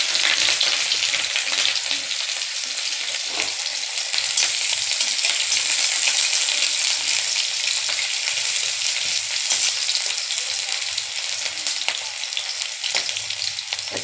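Chopped onion, panch phoron and green chilli fry in hot oil with a steady, dense sizzle that holds at an even level throughout, close and fairly loud, with no talking.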